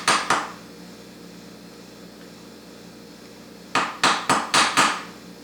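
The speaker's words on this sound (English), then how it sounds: "I just gently try to stake some metal over this to kind of hold it in place, help hold it in place." Metal hammer taps staking metal over a part on a Rochester Quadrajet carburetor: two sharp strikes at the start, a pause, then a quick run of four or five close, clear blows.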